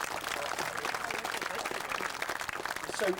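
A festival audience applauds a band, a continuous wash of clapping from a crowd at moderate distance, steady throughout with faint voices mixed in.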